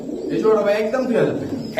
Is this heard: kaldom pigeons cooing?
yes